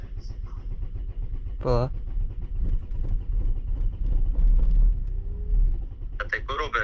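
An Audi, short on fuel with an overdue filter change, rumbles low and steady as its engine tries to start and run, with a person speaking briefly and a few chirpy tones over the drone.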